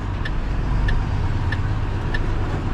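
Car engine rumbling close by in a narrow rainy Marseille street, with a steady low drone and faint regular ticking on top, continuous and fairly loud, with no voices.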